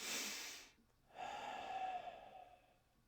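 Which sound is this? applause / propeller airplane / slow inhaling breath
slow inhaling breath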